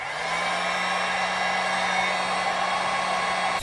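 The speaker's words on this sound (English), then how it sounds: "I would use my heat gun to kind of just heat it up a bit to activate" A heat gun runs continuously at close range, warming the adhesive on a car accessory for an Alfa Romeo 4C, a steady blowing hiss with a low motor hum and no talk.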